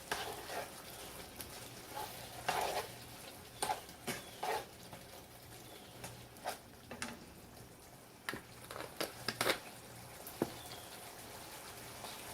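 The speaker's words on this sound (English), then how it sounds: "I'm going to add about a tablespoon of dried basil. I'm going to mix that in." A spoon stirs dried basil into a chicken tomato pasta sauce cooking on the stove, with a soft bubbling simmer and intermittent scraping and clicking strokes, and no voices.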